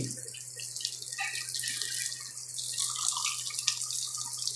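Water sprays steadily onto a C22 Vanette pickup lorry during washing, a continuous hissing rain-like spatter with a low steady hum underneath, no voices.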